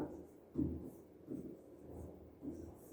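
Marker or chalk on a board during a grammar lesson, faint short rubbing strokes in a few separate bursts, quiet and close.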